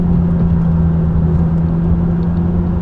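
A McLaren 570S engine accelerates hard, a loud, steady low rumble and drone from inside the car throughout, with no talking.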